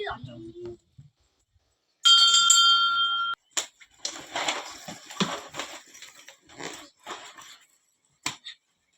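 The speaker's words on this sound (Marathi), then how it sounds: "घंटी वाजव" A bright metallic bell rings steadily for about a second, followed by excited children's voices and footsteps.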